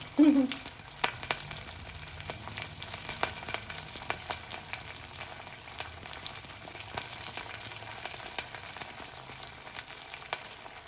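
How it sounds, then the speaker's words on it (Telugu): Green chilies and curry leaves sizzle steadily in hot oil for a Telugu majjiga pulusu tempering, a continuous close frying hiss with a brief louder burst at the start as they hit the pan, no talking. "కొద్దిగా పచ్చిమిరపకాయలు బోలెడంత కరివేపాకు వేస్తాం మనం"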